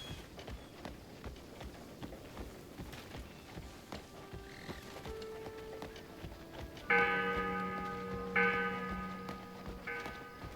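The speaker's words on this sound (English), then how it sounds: "That's the first time I've heard that church bell ring in a long time." A church bell in the video game Crimson Desert rings out a few resonant, sustained strikes over a background of footsteps and ambient game sounds.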